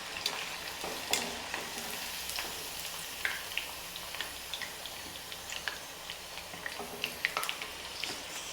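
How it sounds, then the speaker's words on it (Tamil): Chicken 65 pieces deep-fry in hot oil, a steady, fairly faint sizzle and bubbling with scattered sharp crackles and pops throughout. "சிக்கன் 65 இப்போ நல்லா ஃப்ரை ஆகி நல்லா ப்ரௌனிஷ் கலரில் வந்தாச்சு பாருங்கள்"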